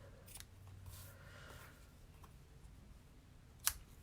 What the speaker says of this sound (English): Let me get my little scissors.